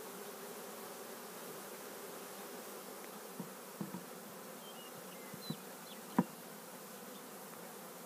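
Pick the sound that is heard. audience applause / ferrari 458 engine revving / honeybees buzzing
honeybees buzzing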